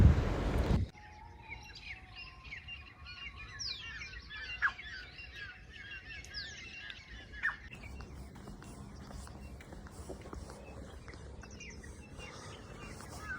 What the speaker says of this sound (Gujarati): જો પક્ષીઓનો અવાજ આવે છે ને એકદમ ઠંડક